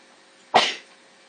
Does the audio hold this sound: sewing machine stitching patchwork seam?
no